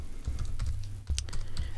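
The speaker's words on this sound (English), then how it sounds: "if I can type in the link right," Rapid clicking of a computer keyboard, a short close burst of uneven keystrokes.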